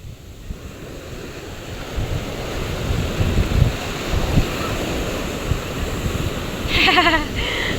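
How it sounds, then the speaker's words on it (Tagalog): Big ocean waves crash on a beach where a family is swimming, with a low continuous roar of surf and strong wind buffeting the microphone. The surges build and recede, and a brief higher sound comes near the end. "umahon na po at malalaki po talaga yung alon"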